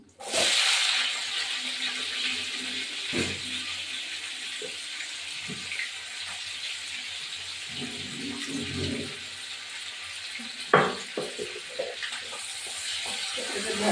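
Sliced onions hit hot oil already holding sugar, cardamom, cinnamon and bay leaf, giving a loud, steady broadband sizzle that swells at once and carries on throughout, with a few clinks and stirring knocks scattered over it.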